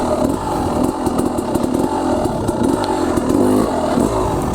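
An enduro motorcycle engine revs steadily and close by, with short bursts of throttle and clutch blips over a continuous rough mechanical drone, plus faint clatter of the bike moving over obstacles.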